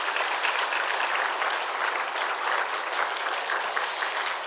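A church congregation applauds together at a Sunday service, a dense, steady wash of clapping from many hands that lasts throughout, moderately loud and without any talking over it.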